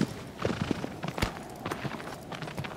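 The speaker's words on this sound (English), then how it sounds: "Impressive horse riding skills" A horse gallops in the Shadow of the Colossus video game, its quick rhythmic hoofbeats thudding steadily and close over a busy background with no talking.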